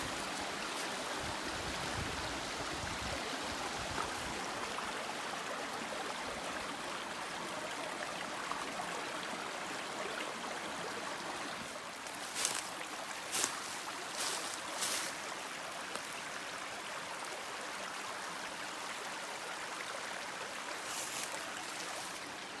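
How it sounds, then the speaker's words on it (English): Two creeks meet and flow together along a trail section in March, a steady soft rushing of water with a few brief louder splashes midway, no voices. "here you've got the 2 creeks coming together"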